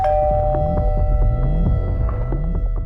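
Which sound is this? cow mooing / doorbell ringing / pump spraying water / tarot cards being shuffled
doorbell ringing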